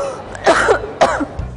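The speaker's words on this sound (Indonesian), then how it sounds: "Dari tadi aku gak berhenti batuk" A person, apparently sick with fever, coughs twice in quick succession, close and loud, with a little throat-clearing rasp between the bursts.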